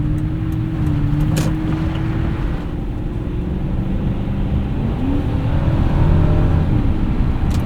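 A 2005 Lexus SC 430 with its 4.3 liter V8 cruising through snow produces a low, steady engine drone inside the cabin, with a faint rising tone and soft road rumble, quiet and smooth throughout.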